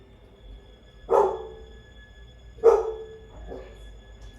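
A dog barks twice in clear separate woofs, followed by a softer third yip, moderately close against a quiet, faintly humming background.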